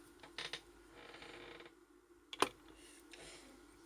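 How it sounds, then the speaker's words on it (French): Scissors snip the thread while a Perdigone nymph fly is tied at a quiet bench, one sharp close click standing out amid faint handling and creaks. "Là, je prends les ciseaux."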